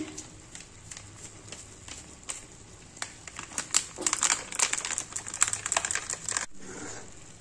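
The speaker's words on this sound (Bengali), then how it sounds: "তার জন্য আমুল দুধের প্যাকেটটা কেটে নিচ্ছি" An Amul milk packet is cut open up close, with sharp crinkling plastic rustles and clicky snips that grow busier before stopping abruptly.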